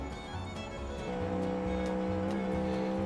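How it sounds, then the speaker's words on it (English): Tires squeal on a NASCAR race car drifting at about 320 km/h in the BeamMP driving game. The squeal rides over a steady, loud engine drone that holds for a few seconds. "Drifting at 320 kilometers an hour."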